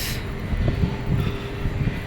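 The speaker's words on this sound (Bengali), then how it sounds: "ওখানে আর আমরা দেখতে পাচ্ছি আর একটা ট্রেন ঢুকছে।" At Paris Gare de l'Est station, a train arrives with a low, steady rumble and faint rhythmic clunks, heard at a moderate distance amid station ambience.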